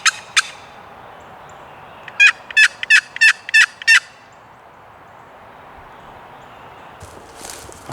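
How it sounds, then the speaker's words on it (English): Wild turkey gobbler in the woods on opening day of the season: a loud gobble near the start, then a rapid burst of five or six gobbling notes in quick succession, followed by quiet and faint distant rustling. "that bird's still gobbling"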